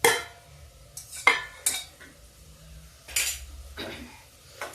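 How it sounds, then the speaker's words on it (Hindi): Roasted whole moong dal stirred into cooking vegetables and spices, giving several sharp metallic clinks and scrapes of a spoon against a pot, spaced irregularly, close and clear with no talk. "अब इसमें हम ये दाल मिक्स करते हैं जो मैं भून के रखी हूँ"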